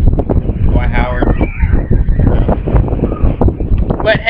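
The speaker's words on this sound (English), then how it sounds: "It is very, very windy today." Strong outdoor wind buffets the microphone with a constant heavy low rumble while people talk over it.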